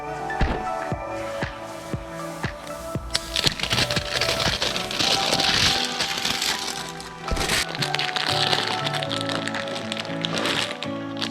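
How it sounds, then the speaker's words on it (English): Tightening the front sprocket bolt on a wrecked 2015 Honda CBR 600RR being rebuilt, a close series of metallic clicks and clacks with scraping and knocks from the workshop. "Next, we just have to torque down the bolt for our front sprocket."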